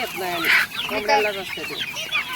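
Free-range desi chickens cluck in a pomegranate orchard, with a busy overlapping chatter of clucks and squawks close by and a faint voice underneath.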